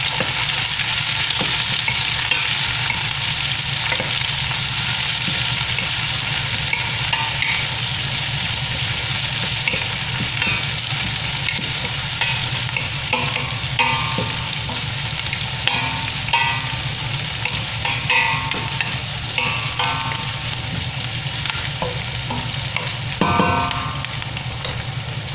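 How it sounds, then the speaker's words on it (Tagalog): Lots of onions sautéing in a pan as the base for beef kare-kare, a steady loud sizzle with occasional stirring and utensil scrapes running throughout, with a low hum underneath. "So now, ilagay na natin tong sibuyas."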